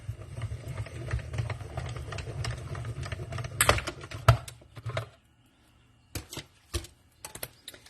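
A die-cutting machine runs a card through with a steady low mechanical rumble for about five seconds, then stops; a few sharp handling knocks and clicks follow in near silence.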